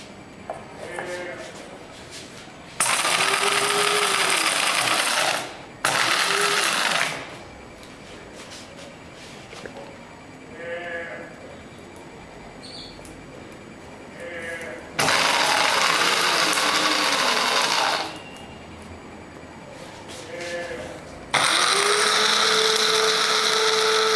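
An electric grinder pulverises dry bhuna masala spices in four loud, steady whirring bursts of a few seconds each. Quieter gaps of low room noise and handling separate the bursts.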